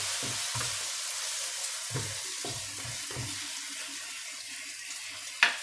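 Vegetarian omelette frying in a pan gives a steady soft sizzle throughout, with a few low knocks early on and a sharp clack near the end.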